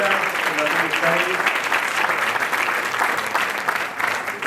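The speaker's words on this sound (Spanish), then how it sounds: "Un fuerte aplauso para Aitor, director de la Fundación Euskadi." An audience in a hall claps steadily, a dense, even wash of applause that stays loud throughout, with a voice speaking over the opening moments.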